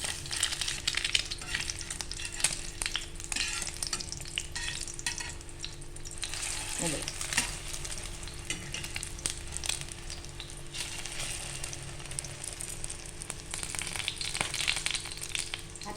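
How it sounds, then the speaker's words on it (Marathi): Bread slices dipped in beaten egg fry on a small tava over a low gas flame, giving a steady close sizzle with crackles and occasional spatters throughout. "ते त्या अंड्याच्या ह्याच्यात आपण डीप करून फ्राय करायला टाकूया"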